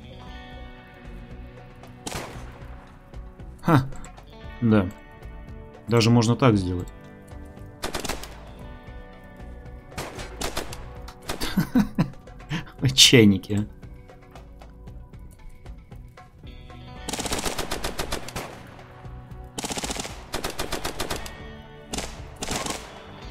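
Gunshots in the colony game RimWorld: single sharp bangs fire at irregular intervals, each a short loud crack with some ringing tail, while someone speaks briefly between them.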